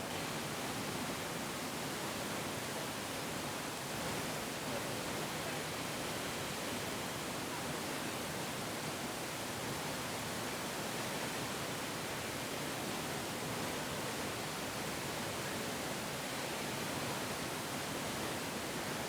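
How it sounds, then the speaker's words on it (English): Steady broadband rush of a waterfall, continuous and even throughout with no breaks, a dense hiss filling the whole clip with no voices. "So I'm just taking in the waterfall"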